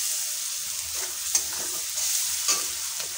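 Chicken sautéing with cumin and chili powder in a pan, a steady close sizzle with soft scraping stirs every second or so, no voices.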